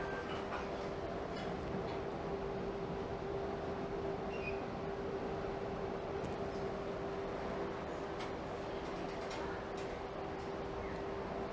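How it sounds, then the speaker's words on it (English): Steady rumbling interior noise while riding an air-conditioned Toronto streetcar, with a constant low drone, a faint sustained tone, and occasional soft rattles and clicks over the rail ride. "at least I'm in an air-conditioned streetcar."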